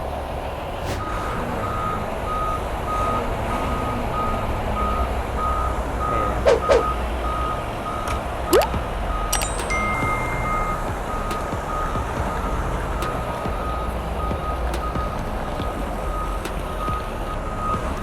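A Komatsu 530B wheel loader engine idles at a low, steady rumble close by, while a reversing beep repeats faintly in the background.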